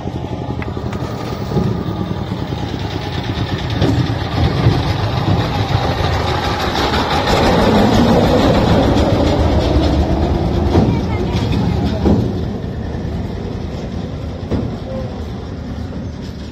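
A train ride at a village fair held for a mosque religious gathering, its steady rumble and engine drone running continuously for the whole stretch under a busy crowd and talking voices.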